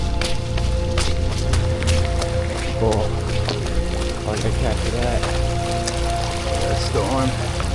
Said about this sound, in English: Sure is raining out here, that's for sure.